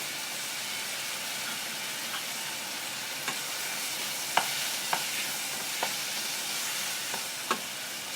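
Peeled tomatoes sizzling in a frying pan for a homemade curry, a steady hiss of frying with a few faint clicks and stirring taps, and no talking.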